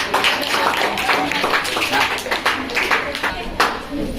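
A classroom of students claps for a classmate's science poster drawing of a cell, a brisk burst of many hands applauding up close for several seconds.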